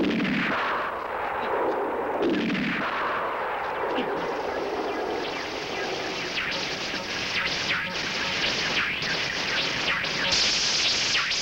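Gunfire in a 1968 jungle adventure film, a dense stretch of shots and blasts over a steady noisy background with some voices mixed in, continuous and loud throughout.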